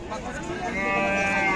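Friesian dairy cows with calves at the Ambari cattle market in Dinajpur; one cow gives a loud, drawn-out moo that swells toward the end amid the chatter of the crowd.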